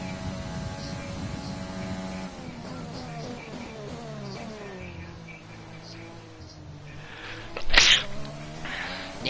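A single sharp sneeze bursts out near the end, loud and close, during a Formula 1 race in the F1 2020 video game at the Italian Grand Prix, over a steady rising and falling race-car engine drone.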